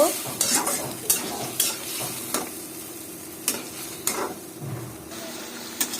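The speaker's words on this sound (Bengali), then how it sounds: "মিষ্টি কুমড়া আর দু একটা পুঁইশাকের ডাটি নিয়েছি সেগুলো নিয়ে সব ভালোভাবে একসাথে কষায় নেব" Pumpkin, shrimp and malabar spinach stems being stir-fried in a pan, a constant sizzle broken by repeated sharp scraping strokes of a spatula against the pan, close and lively.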